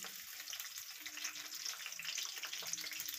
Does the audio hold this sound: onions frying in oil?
yes